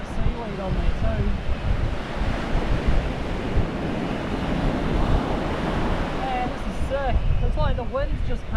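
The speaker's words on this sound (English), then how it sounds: "It's like the wind's just come in, turned to pretty horrible conditions" Strong wind buffets the microphone on an Australian surf beach during fishing, a constant loud roar blended with breaking surf, with a few distant voices or calls near the end.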